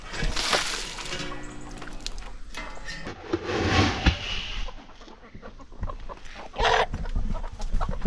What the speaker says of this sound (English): What are you doing, Rooster?